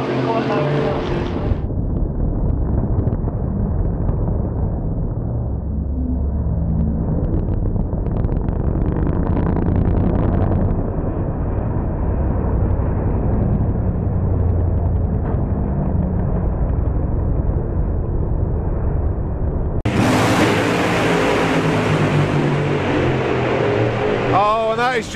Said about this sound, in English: the big explosion at the stripe there